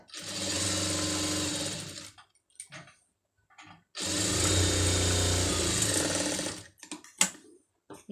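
A sewing machine stitching a sleeve from saree cloth runs in two loud, steady bursts of rapid whirring, separated by a quiet pause, with small mechanical clicks at the end.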